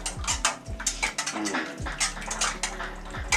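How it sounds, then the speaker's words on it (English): A spoon clinks and scrapes against a bowl while sugar and salt are mixed, a busy run of quick metallic taps and rattles, close and clear. "Mix with a spoon."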